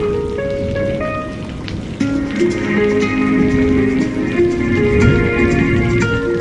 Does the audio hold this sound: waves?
no